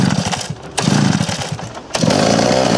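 A chainsaw engine fitted to a drift trike runs loud and close, revving and dipping in uneven surges with brief drops between bursts.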